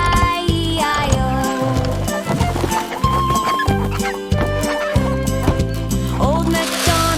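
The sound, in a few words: chicken clucking in nursery rhyme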